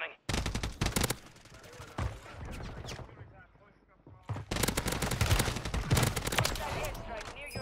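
Full-auto rifle fire in the shooter Warzone: two long, rapid bursts of close, loud gunshots separated by a brief quieter lull, with a voice talking in the background.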